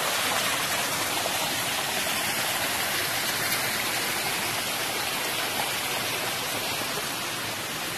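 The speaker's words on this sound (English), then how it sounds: "Obviously, this waterfall continues all the way up." Constant loud roar of a waterfall on the Appalachian Trail, bright hissing spray and rushing water filling the space evenly with no break and no voices.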